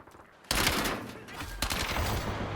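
Pistol gunfire in a fast shooter video game, several loud sharp shots in quick succession over a steady bed of game noise, with a second burst about a second later.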